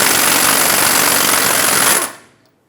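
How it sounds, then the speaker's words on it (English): A power impact tool removes the drag link nut from the lower tie rod with a 21mm socket on a 2003-2009 Dodge Ram 2500, a loud, close, continuous rattling hammer for about two seconds before cutting off. "Use a 21mm socket and remove the nut that holds the drag link on the"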